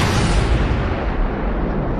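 A naval mine detonates as a minesweeper's high-voltage cable mimics a ship's electromagnetic signature, giving a loud, sustained rumbling blast that fills the whole moment with heavy low-end roar and no voices.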